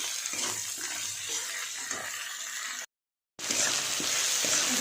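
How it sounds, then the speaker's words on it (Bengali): Prawns and taro chunks cook in a pan with salt and sugar, giving a dense, hissing sizzle with faint stirring thumps. The sound cuts to silence for a moment, then resumes as loud as before, and no one speaks. "দিয়ে এগুলোকে একটু ভালো করে কষিয়ে নেব।"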